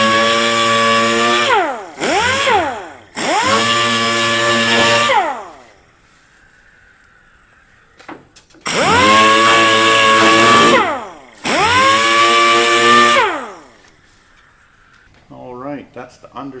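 Power tool grinding rust off the underside of a Toyota Landcruiser 200 Series bonnet, loud whining bursts that spin up and wind down, several runs separated by quiet pauses, with faint clatter near the end.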